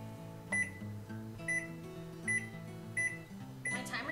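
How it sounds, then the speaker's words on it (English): A kitchen oven timer beeps while banana bread bakes, giving four or five short, bright electronic beeps at roughly even intervals over a low background hum, then a brief clatter at the end. "My timer just went off"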